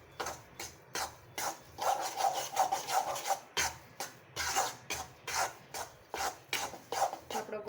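A spoon stirs a jaggery mixture for sukhdi, the Gujarati sweet, in a pan, making rhythmic rough scraping strokes, roughly two each second, close and fairly loud with short gaps between them.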